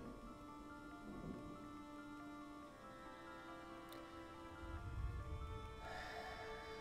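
Rain or falling ink in an animation soundtrack, a steady wash of patter lying over low rumbles and a sustained musical drone, with a deeper swell near the end.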